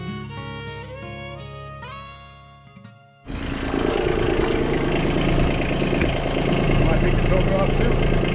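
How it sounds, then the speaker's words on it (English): A Lyman Sleeper boat's motor, needing rejetting, bursts into a loud, steady running roar about three seconds in, following a stretch of tonal sound, and stays strong to the end. "Motor runs great."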